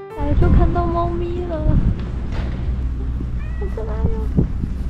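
A cat meows a few times outdoors on Ogijima, a small Japanese island in the Seto Inland Sea, amid wind and nearby chatter, with voices talking around the short calls.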